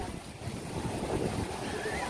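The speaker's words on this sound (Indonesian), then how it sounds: "Ombaknya lumayan deras ini" Steady roar of strong ocean surf and rushing water at a beach in Singkawang, West Kalimantan, with wind buffeting the microphone, continuous and fairly loud throughout.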